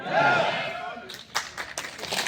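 A few scattered claps from an audience at a Vestige marketing program in Basti, arriving as sharp separate slaps after a spoken voice fades, sparse and uneven rather than full applause.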